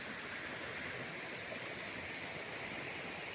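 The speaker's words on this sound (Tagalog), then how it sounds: "dinig nyo naman ang lagaslas ng tubig, no?" Water from a stream beside a farm lot in Majayjay, Laguna flows in a steady, soft rushing wash, close and continuous with no talking.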